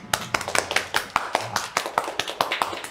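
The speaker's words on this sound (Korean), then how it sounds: "다들 박수." Office colleagues applaud a coworker together, with quick rhythmic claps in steady bursts, close and fairly loud, and no talking over them.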